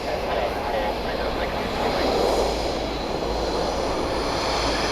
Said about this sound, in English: Got our Dassault Falcon heading out